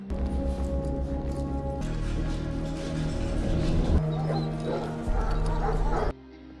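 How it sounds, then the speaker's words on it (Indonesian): Several dogs bark and yip in a prison dog kennel room in the morning, with repeated loud, overlapping barks and whimpers over a musical film soundtrack. "Di pagi hari, Carney membawa Bunny ke ruangan anjingnya penjara"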